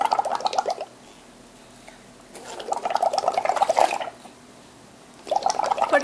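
Bursts of bubbling, gurgling water close by as a child blows bubbles, in three rapid runs separated by quiet pauses.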